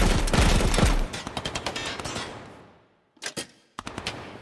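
Rifle fire in the tactical shooter Ground Branch: a rapid burst of close, loud shots that echoes out into silence, followed by two short, quieter bursts of a few rounds each.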